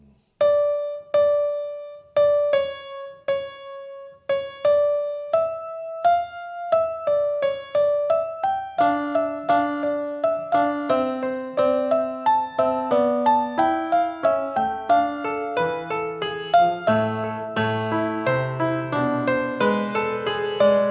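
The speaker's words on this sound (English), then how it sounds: "But what if Bach wrote that? What would that sound like? I would sound like this" A solo violin improvises on Vivaldi's La Follia melody in the style of Bach. It begins with repeated detached notes and builds into busy, flowing Baroque figuration with double stops, played close and without accompaniment.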